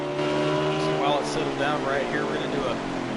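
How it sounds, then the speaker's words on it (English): A race car engine in a NARL Cup Series racing video game roars continuously around Martinsville Speedway, a loud steady drone with whining pitch sweeps rising and falling as the car shifts and corners. "engine noise here as he navigates Martinsville Speedway"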